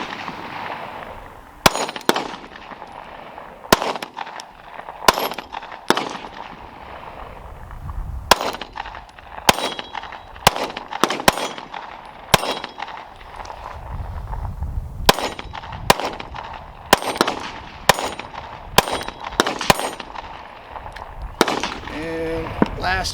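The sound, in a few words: gunshots from a Glock 43X MOS pistol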